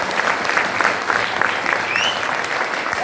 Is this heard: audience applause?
yes